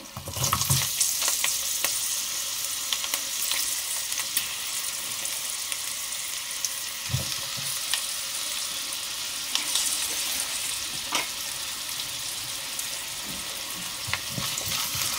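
Small chopped raw mango pieces with green chillies frying in a pan over medium flame, a steady loud sizzle with occasional stirring scrapes throughout.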